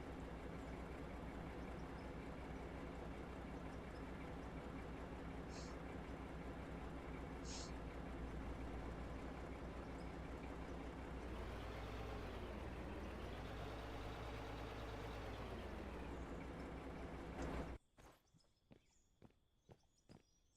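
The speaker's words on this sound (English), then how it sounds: "Fucking fuel truck sitting over there running." Fuel truck engine idling in the video game Out of Ore: a steady, close, low mechanical rumble that briefly shifts in pitch mid-way, then cuts off abruptly near the end, leaving near-silence with faint clicks.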